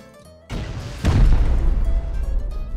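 Rocket explosions from a raid in the video game Rust: two heavy, booming blasts about half a second apart, the second louder, followed by a sustained rumbling roar with no talk.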